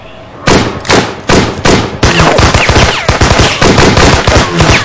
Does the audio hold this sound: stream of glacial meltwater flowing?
no